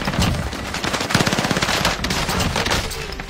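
Rapid automatic gunfire from the video game Warzone, dense bursts of shots filling the whole stretch at steady loudness with no talk over it.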